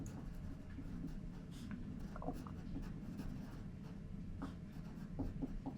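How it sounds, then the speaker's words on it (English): A pen or pencil scratches steadily across paper while a user-interface sketch is drawn, with soft continuous strokes and light taps, fairly close, over a low background hum and no talk. "So essentially, I'm just drawing."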